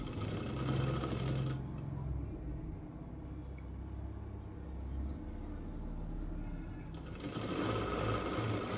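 Sewing machine stitching the hem of a Punjabi dress, a steady close motor whir with a brief pause in the middle before the stitching resumes.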